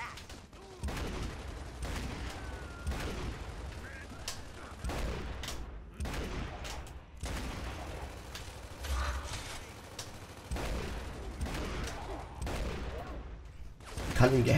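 Gunfire from Gears of War 3 multiplayer, with repeated sharp bursts of shots and rattling weapon mechanisms spread across the stretch, moderately loud under quieter game ambience.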